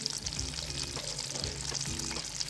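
Ground ginger frying in melted butter in a pan, a steady close sizzle and crackle with faint scraping stirs, no talking.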